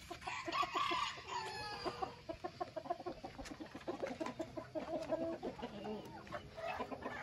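Nagasaki bantam chickens in a poultry-keeping pen, clucking steadily with a crow rising early on, a busy, moderately close flock chatter that runs throughout without voices.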